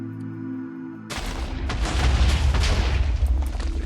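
A TNT blast from the Fire Blast explosive in Minecraft with the XPlosives mod erupts after a quiet hum, becoming a loud, sustained rumbling roar with crackling debris that lingers for several seconds.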